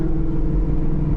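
A Camaro ZL1 fitted with a swapped 10-speed gearbox and eLSD pulls hard in first gear, its engine a loud, steady, deep rumble with no one talking over it.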